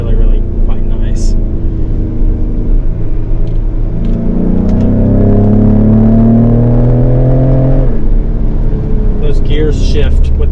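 2020 Ford Explorer ST engine on a driving run, a loud rumbling note climbing in pitch under acceleration before dropping off, with a person talking over the top near the end.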